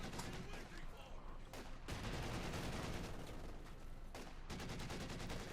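Sustained automatic gunfire from a machine gun in the WWII strategy game Company of Heroes 2, with dense rapid bursts, scattered explosions and a busy battle soundscape running continuously throughout.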